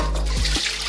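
Hot water runs steadily over a freshly cleaned bone being rinsed, a close, full gush of flowing and splashing water with no talk.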